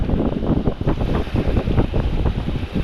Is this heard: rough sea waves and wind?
yes